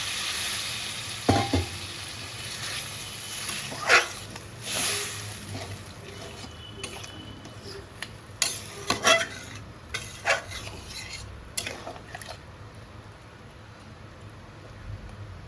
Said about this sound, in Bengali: মশলার সঙ্গে সবজি এবার আমি পরিমাণ মতো জল দিয়ে দিচ্ছি